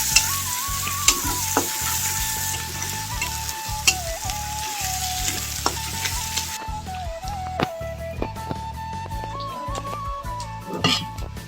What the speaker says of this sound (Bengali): আলুগুলো কিন্তু মানে সুন্দর করে ভাজছি